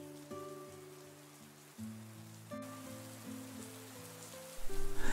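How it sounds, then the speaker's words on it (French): Rain falls steadily on a surface as a story sound effect, a continuous hiss layered over low sustained tones that swell and shift, growing louder near the end with no voices. "La pluie s'intensifie"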